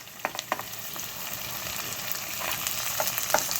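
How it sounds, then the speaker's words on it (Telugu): Chopped tomatoes and curry leaves sizzle in a hot pan for a tomato curry, a steady close frying hiss with a few light stirring taps and spatters, no voices. "కరివేపాకు వేసుకుని ఇలా ఒకసారి కలిపేసేసుకుని మనం సన్నగా తరిగి పెట్టుకున్నాం టమాటోలు వేసేసుకుందాం"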